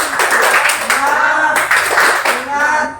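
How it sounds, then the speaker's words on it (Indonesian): A class of students in an electronics engineering teaching session claps hands in a few rhythmic bursts, with voices chanting over the clapping. "1, 2, 3. Tepuk tangan."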